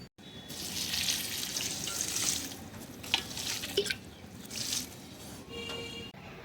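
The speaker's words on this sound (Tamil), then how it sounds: "இப்போ கொஞ்சம் தண்ணி கொஞ்சம் ஊற்றி விட்டுடலாம் மேலே" Water is poured onto a potted rose plant, a steady close splashing and trickling with a few drips, continuous for several seconds.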